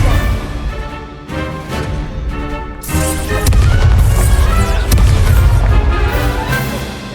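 The Incendio fire spell is cast during Hogwarts Legacy combat, giving heavy whooshing booms and crashes over a bed of game music. The blasts swell louder about halfway through and stay dense and forceful to the end.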